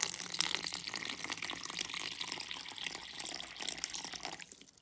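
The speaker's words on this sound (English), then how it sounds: "I fed this one, now it's time to water." Steady splashing of water being poured into a tarantula enclosure, a continuous close rushing trickle that thins out and fades at the end.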